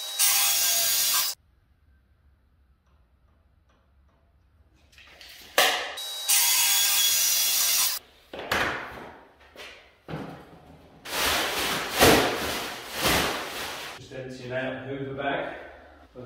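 A track saw cuts through an MDF board in loud, sustained whining bursts separated by short gaps, with someone talking over and between the cuts.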